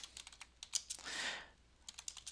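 Keys on a computer keyboard are tapped in quick, uneven bursts of sharp clicks with a brief soft rustle between, close and fairly quiet.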